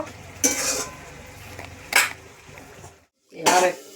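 Metal cookware clatters in a home kitchen as a lid goes onto a pot of simmering tok chochchori: a couple of clanks and clinks with a brief silence between, close and moderately loud.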